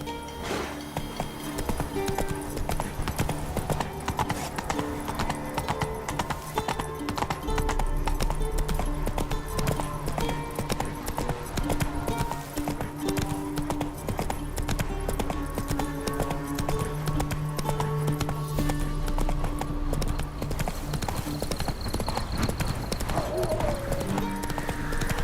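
Horse hooves clip-clopping in a steady trotting rhythm, loud and close throughout, with a brief whinny and a voice now and then.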